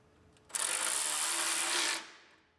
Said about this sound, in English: We'll get our fan on and we'll start our bolts.